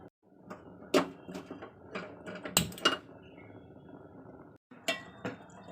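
Pots and utensils knock and clink in a home kitchen as lentils are set to cook, with scattered sharp metallic and glassy hits, irregular and close, and a brief pause near the end.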